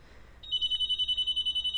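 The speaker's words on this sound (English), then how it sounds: "Hang on, I've got a phone call." A telephone rings with an incoming call, a steady repeating electronic trill that starts after a short quiet moment and pulses evenly, close and clear, with no talking over it.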